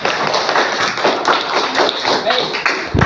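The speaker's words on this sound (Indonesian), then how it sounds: "Ya, tepuk tangan." A classroom group applauds, dense, busy hand clapping filling the short moment, moderately loud and close, ending with a single sharper thump.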